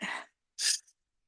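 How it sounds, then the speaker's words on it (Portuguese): Two quick sneezes or a sneeze with a sharp intake during a live stream, a breathy burst followed by a louder, brighter one, close to the microphone and then silence. "É recorrente essa coisa de gostar de espirrar durante a live."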